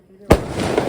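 A sharp, loud firecracker bang erupts close by during Karthigai Deepam celebrations after a moment of near quiet, followed by crackling and rumbling echoes.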